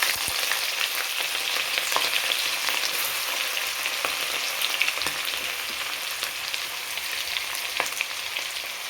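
Ginger frying in hot oil in a pan for homemade fish pickle, a steady dense sizzle with occasional crackles and stirring, close and continuous, no voices.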